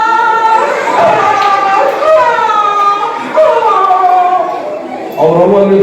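A comedian imitates dogs howling with his voice during a stage comedy performance, producing sustained, wavering, drawn-out howls that run almost continuously with a couple of brief breaks.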